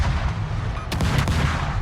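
Naval gunfire from the Dutch cruiser Groningen in a warship video game: rapid booming shots, two or three sharp reports, loud over a dense background rumble of battle.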